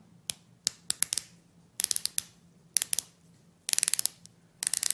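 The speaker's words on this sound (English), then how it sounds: "So what we get is a 60-click bezel, which is very, very tooly. It's very industrial. It's not very gliding. It's very metallic and clicking." Crisp metallic clicks come from the 60-click bezel of a Certina DS PH200 dive watch as it is turned. Rapid bursts of ratcheting clicks sound close and alone, separated by short pauses.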